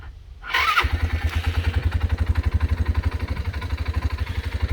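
A Loncin LX200 quad bike engine cranks briefly, catches and starts, then settles into a loud, close, rhythmic idle chug with a steady pulse and no speech.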